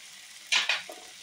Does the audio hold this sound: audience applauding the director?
no